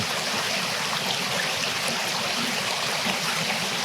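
Creek water flows steadily beside an overgrown abandoned ruin, making a continuous close, even rush and gurgle with no breaks.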